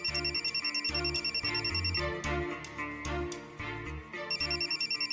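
A phone in a home scene of a Marathi TV serial rings in repeated electronic bursts with short gaps, moderately loud, with music playing underneath.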